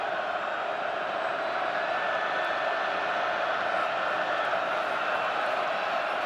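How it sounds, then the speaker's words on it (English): Missouri home crowd at a college football stadium during a 2012 game against Syracuse: a steady, broad roar of many voices that holds evenly throughout, with a commentator's voice faintly underneath. "Here comes that Mizzou crowd."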